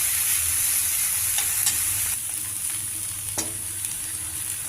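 Dry lentils sizzle and rustle in a hot pan, with a constant hiss and a few light scrapes of a spoon; no talking.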